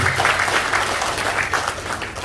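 A crowd applauding steadily, a dense wash of clapping hands that continues throughout.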